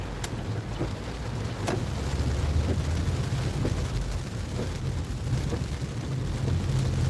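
Heavy, pouring rain drums steadily on a car while it drives through city streets, a dense continuous wash with a low engine and road rumble underneath and a few faint clicks.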